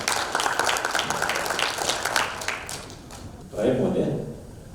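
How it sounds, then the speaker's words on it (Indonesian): Applause at an 80th birthday thanksgiving gathering, a crowd clapping steadily for several seconds, moderately close, with voices talking over it before a louder speaking voice takes over at the end. "Tepuk tangan dulu."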